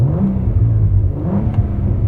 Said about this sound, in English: It's one of the few V6s that sounds pretty gnarly in today's era, and the twin turbos don't suck out all the noise.